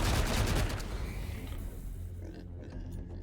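A rapid burst of gunfire in the video game Wasteland 3, with loud close shots at the start that give way to fainter scattered reports and clatter.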